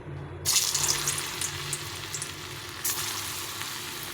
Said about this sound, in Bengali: এখন আমি এটা তেলে ছেড়ে দেবো